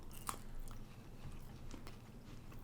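Close-up biting and chewing of an Almond Joy candy bar with almonds, a sharp initial bite followed by soft, moist chewing for a couple of seconds, no talking.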